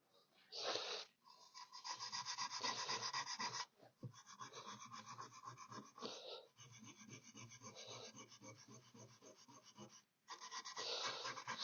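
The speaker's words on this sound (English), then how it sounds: "So we'll just get a little bit of sandpaper on that and sand that back." Sandpaper, around 120 to 180 grit, rubbing back the edges of a wooden cog clock to remove burrs, giving steady rasping strokes that run almost continuously with a few short pauses.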